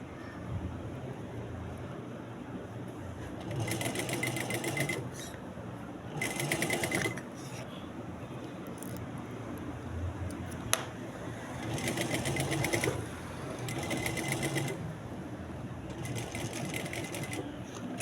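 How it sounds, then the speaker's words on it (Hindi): A sewing machine stitches the back neck of a garment in several short whirring runs with pauses between them, close and fairly quiet over a soft background hum. "बिल्कुल किनारे किनारे पर आराम आराम से आपने सिलाई लगाते जाना है और नीचे से कपड़े को सेट भी करते जाना है"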